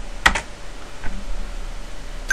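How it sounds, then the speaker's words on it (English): Computer keystrokes sound in a few quick, sharp clicks near the start and end, with a soft tap in between, close and fairly clear over a quiet background. "So we're going to type"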